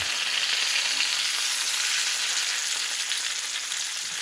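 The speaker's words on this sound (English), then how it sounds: "Flip them trout over." Trout fry in a pan with a loud, steady, close sizzle that holds even throughout, and no voices are heard over the hiss.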